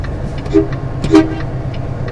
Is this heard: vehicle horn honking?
yes